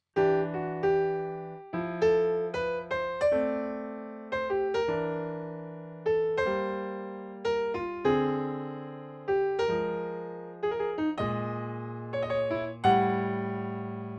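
Solo piano plays sparse two-note left-hand shell voicings, root-third and root-seventh, low with a melody above, each chord ringing and decaying before the next.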